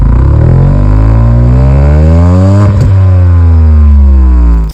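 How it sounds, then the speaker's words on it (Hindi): Loud exhaust note from a 2024 Tata Altroz Racer, revving with rising and falling harmonic tones across the whole stretch, close and strong, with no talk over it. "इस गाड़ी का जो एग्जॉस्ट साउंड है, वो भी डिफरेंट और लाउड है नॉर्मल एल्ट्रोज के मुकाबले"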